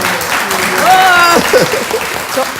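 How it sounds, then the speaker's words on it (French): Audience applause at a comedy show, a dense wash of clapping with a short sung or whistled tone rising over it, loud and steady throughout. "On va t'applaudir, Jacques"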